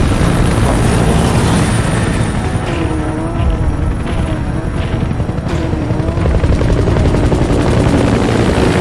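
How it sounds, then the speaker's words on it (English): A support helicopter in the video game Metal Gear Solid V: The Phantom Pain, with loud, close rotor chop and a dense engine roar that stays constant throughout, with no voices. "Support helicopter requested."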